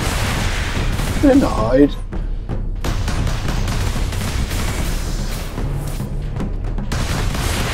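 Missile launcher fire in the Warhammer 40,000: Space Marine video game, booming blasts and explosions under a dense bed of battle noise, with a voice speaking briefly over it.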